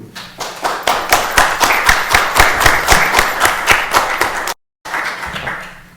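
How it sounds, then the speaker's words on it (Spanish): An audience at an academic colloquium on internet governance breaks into loud, rapid clapping that runs strongly for several seconds, cuts out briefly, then resumes and tapers off. "les pido un fuerte aplauso"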